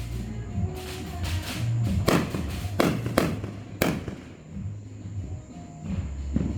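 Backyard Fourth of July fireworks booming at a distance, several sharp bursts and thuds spread across a few seconds over a low background rumble.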